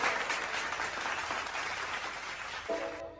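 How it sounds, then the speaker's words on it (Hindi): Sustained audience applause from a crowd under a large tent at a Hindi poetry recital, dense and loud clapping that holds steady before cutting off abruptly near the end. "एक बार जोरदार तालियां पूरा पंडाल"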